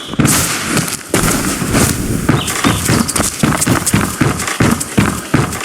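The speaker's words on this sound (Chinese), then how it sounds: "多买几瓶烟花，回家也能放" Fireworks set off in the video game Where Winds Meet, a dense run of popping and crackling bursts that repeat steadily throughout with no talking.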